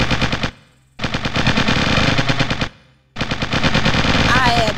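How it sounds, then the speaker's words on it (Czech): Machine gun fire in the video game Original War rattles in three long, loud, close bursts separated by short gaps. "Oni na mě střílí."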